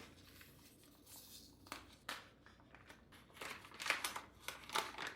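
Plastic wrapping around a flat cut corned beef brisket of nearly 4 pounds crinkles and tears in quiet, irregular bursts, growing louder and busier toward the end as the package is pulled open.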